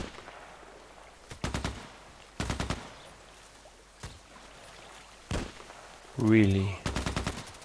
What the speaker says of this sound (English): No idea where he's shooting.